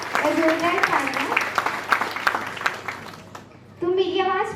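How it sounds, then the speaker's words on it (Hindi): An audience at a school farewell party claps for the cameraman with a scattered ripple of applause, mixed with voices and chatter, before a single speaker starts talking again. "जोरदार तालियां"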